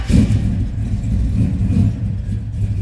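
A 1970 Chevrolet Chevelle with a mid-70s 454 V8, Hooker headers and aftermarket exhaust rumbles loudly and close, a deep, throbbing idle with slight surges in revs.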